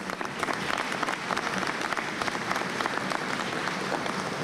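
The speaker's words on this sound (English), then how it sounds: "I'd like us to give them another round of applause" Applause at a Father's Day public pledge signing ceremony, a steady dense clapping from an audience that holds evenly loud throughout without breaks or talk.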